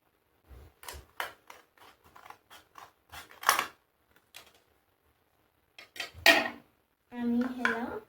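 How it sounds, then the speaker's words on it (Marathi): Scissors snipping around the round rim of a paper cup, a series of short crisp cuts in irregular rhythm, close and fairly quiet, ending in a longer crinkling rustle. "नंतर आपण हे समोरचं जे गोल गोल आहे बाजू तिला आपण कट करून घेऊया"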